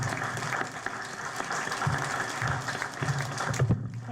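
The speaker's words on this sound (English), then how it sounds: "Let's welcome her with a big applause." An audience claps steadily, producing a dense, continuous patter of applause at moderate volume throughout.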